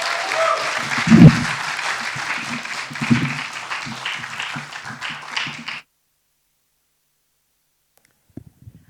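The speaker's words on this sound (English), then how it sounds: "Ladies and gentlemen, round of applause for none other than Judy Kibinge." Audience applause for a speaker at an event, a loud sustained round of clapping from a crowd with a few close sharp claps, lasting about six seconds before cutting to near silence with faint taps.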